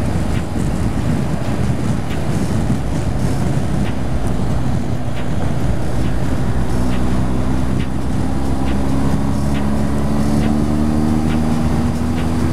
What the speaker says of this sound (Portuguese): Olha como essa moto anda bem, pessoal.